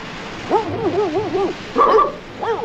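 Great Danes giving a run of wavering, yelping barks and howl-like cries, loud and fairly close, in bursts with short pauses between them.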